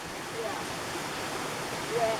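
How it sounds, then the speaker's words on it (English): Water running down a wet, slippery mountain hiking trail gives a steady broadband rush, close by and continuous, with faint voices underneath. "It's all water flowing down like this."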